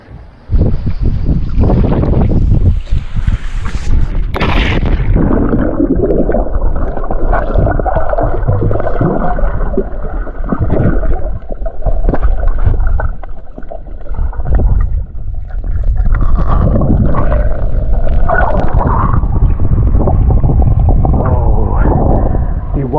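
Steady wind buffets the microphone at a Greek seaside swimming spot, a continuous broadband roar with gusty swells throughout, loud and close, with no talking over it.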